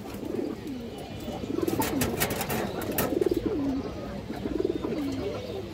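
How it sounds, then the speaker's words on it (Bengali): Several pigeons, including a white army-breed male, coo in repeated soft rolling phrases close by, with a steady outdoor background hum. "খুব সুন্দর একটা আর্মি নর কবুতর"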